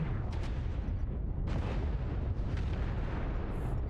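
Rumbling artillery strike explosions in the MechWarrior Online mech combat game, a dense low roar of overlapping blasts with a few sharper bursts rising out of it, loud and continuous without speech.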